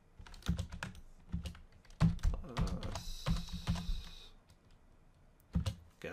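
Typing on a computer keyboard, bursts of key clicks in uneven rhythm with short pauses, close and fairly quiet, no voices.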